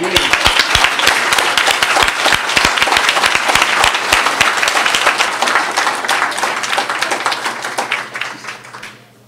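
At a French-language awards ceremony, an audience gives employers a loud, sustained round of applause, many hands clapping close together, gradually thinning and fading away over the last couple of seconds.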